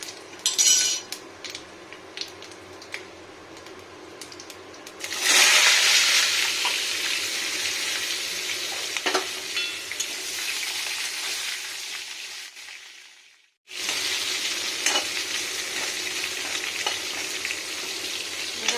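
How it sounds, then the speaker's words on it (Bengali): Whole spices crackle and sizzle in white cooking oil for a vegetarian khichuri, with utensil clinks at first, then a loud, sustained frying hiss that briefly cuts out and returns. "ভাজা যাবে সাদা তেলে। দেখুন এরকম ভাজা ভাজা হলো।"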